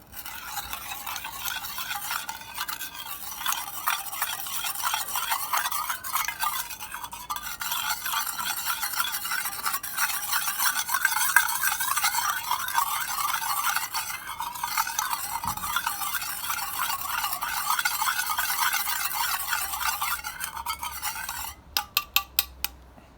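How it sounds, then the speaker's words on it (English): Battery cell mixture for an iron hexacyanoferrate and zinc hexacyanoferrate cell being stirred and scraped steadily in a container, a continuous close scraping rhythm lasting throughout, ending with a few sharp taps. "So we mix it around."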